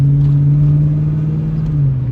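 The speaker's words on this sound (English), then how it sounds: "Gotta fucking love the sound of a beautiful V8, right?" A V8 truck engine idling close by with a deep, steady exhaust rumble, holding one low drone that dips slightly near the end, loud and with no voices over it.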